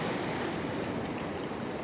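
Continuous roar of ocean waves washing around a rocky point at a fishing spot, a dense, steady rush of surf with some wind, no voices.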